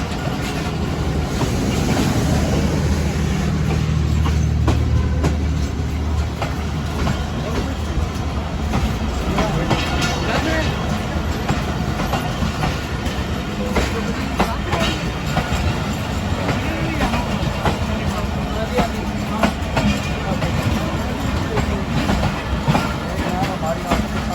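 The Ghouri Express from Faisalabad to Lahore runs slowly near Shahzada past a derailment, a steady close rumble with rail clatter throughout and faint voices in the carriage.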